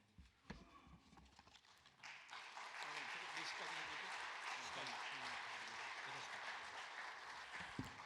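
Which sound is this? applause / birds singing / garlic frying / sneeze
applause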